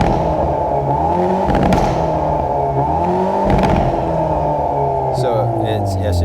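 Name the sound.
Hyundai Veloster N engine at full throttle in N mode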